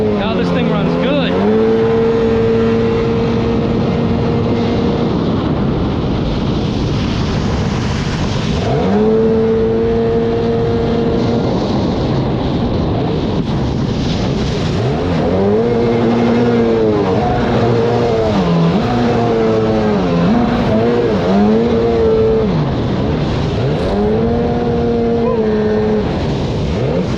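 A Sea-Doo XP personal watercraft engine running loud and revving repeatedly, with pitch climbing and falling in quick surges over a steady rumble, while a person talks now and then.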